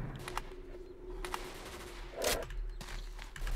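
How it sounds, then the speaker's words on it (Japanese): Distant gunfire from another faction in S.T.A.L.K.E.R. Call of Pripyat, set in a swamp: scattered far-off shots with one louder burst in the middle, over a steady low ambient hum. "向こうの方からする銃声はまた別勢力なのか"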